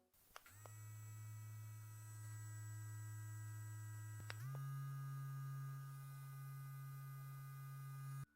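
LuckyTail dog nail grinder running close to the microphone in two speed modes, a steady whining motor hum that steps up in pitch halfway through, with no talking.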